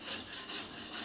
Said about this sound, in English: And I keep moving across the stone so that I use all of the sharpening medium.